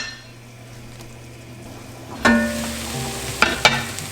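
Kale cooking in a covered pan for pasta primavera: a steady low sizzle and hiss, broken by a few sharp metallic clinks of the lid and pan.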